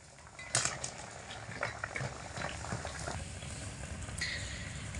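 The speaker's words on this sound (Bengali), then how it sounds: "এবার আঁচটাকে হালকা আঁচে করে দিয়ে এর মধ্যে গজাগুলো ভেজে রাখা দিয়ে" Fried gaja sweets simmer in bubbling sugar syrup in a pan over low heat, giving a steady close bubbling with a sharp clink near the start and light utensil clatter throughout.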